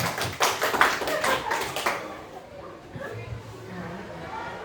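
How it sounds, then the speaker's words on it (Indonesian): A small group of teachers at a school workshop claps briefly, a couple of seconds of scattered, fairly close hand claps that fade out, followed by quiet room sound and some faint talk. "Baik, tepuk tangan untuk kita semua."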